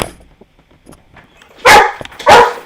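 Two loud, close dog barks arrive about half a second apart near the end, following quieter faint background sounds indoors during a Halo gaming stream.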